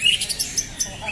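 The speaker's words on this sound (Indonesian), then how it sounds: "Persiapan Kicau Mania lomba burung di Telaga Cibinong." Songbirds at a bird singing contest at Telaga Cibinong let out a quick series of high, bright chirps and squawks in a brisk rhythm, close and fairly loud over a faint murmur of people.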